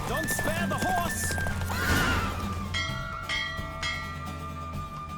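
Horse neighing and hooves clip-clopping during a race in The Witcher 3 video game, a loud whinny up front over galloping hoofbeats, with a bell-like chime and game voices underneath.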